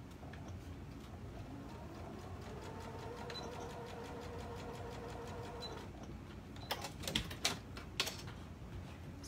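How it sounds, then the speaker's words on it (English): A sewing machine runs steadily while stitching a folded hem about an inch deep in place, a continuous close mechanical whir that gives way near the end to several sharp clicks and taps. "And then we're going to stitch this in place."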